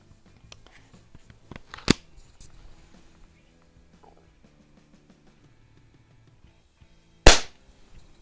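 A Snowpeak SP500 .177 break barrel spring air rifle fires two sharp, close shots several seconds apart, with quiet handling clicks and rustles between them.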